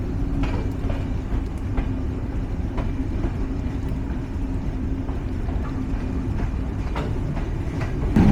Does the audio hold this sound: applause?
no